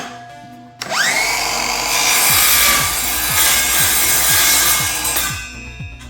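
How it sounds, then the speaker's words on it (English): A power tool cuts through wood while rebuilding a boat's rear seat mount, a loud continuous whining bite with rhythmic low pulses of the blade, close up and with no talk. "Kinda hard to cut when the clamp's in the way, Matt."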